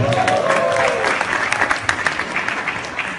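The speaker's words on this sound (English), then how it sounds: "sure, why not a round of applause, right?" Audience applause at a film event honoring Rajinikanth, a steady crowd clapping that stays loud and dense throughout, with faint voices and an occasional higher tone mixed in early on.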